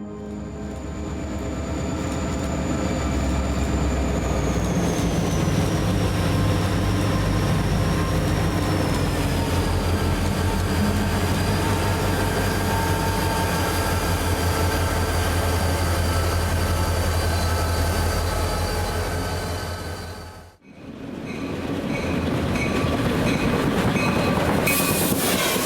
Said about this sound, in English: as it pulled into Wichita, the engines uncoupled to do their runaround